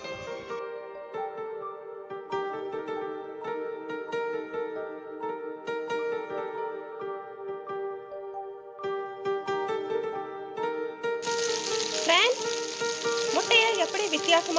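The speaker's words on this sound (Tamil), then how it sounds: "முட்டையோட கோழி இறைச்சி போட்டு நல்லா அடிச்சு பொரிக்கிறதுனால நம்ம சட்டியில நல்லா கிண்டிக்கிட்டு இருக்கணும்" Egg and chicken frying and being stirred in a pan with a steady sizzle, harmonic music playing over it, and a brighter hiss and crackle rising near the end.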